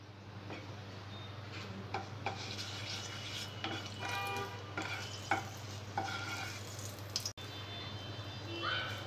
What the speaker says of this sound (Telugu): ఆయిల్ వేడైన తర్వాత బిర్యానీ ఆకు, లవంగాలు, దాల్చిన చెక్క వేసుకోవాలి.